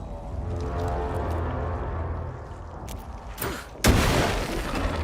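A flashbang goes off in the video game Alan Wake II as a sudden loud boom late in the clip, after a quieter stretch of rumbling game ambience and a short burst.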